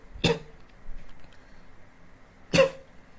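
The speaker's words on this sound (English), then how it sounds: "Not a corona cough before we start." Two sharp, dry coughs about two seconds apart, close to the microphone and loud, with quiet between them, coming from someone with a dry throat and hay fever.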